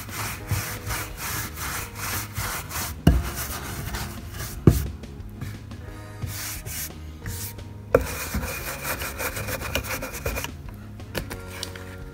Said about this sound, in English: I'm breaking into my DIY black wax using my same smeary brush, and I'm going to put this on the details